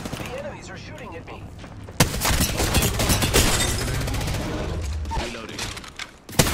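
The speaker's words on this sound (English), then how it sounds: "The enemies are shooting at me." Dense bursts of automatic gunfire from enemies in a battle royale shooter game, loud and continuous with sharp cracks, while a voice speaks over the action.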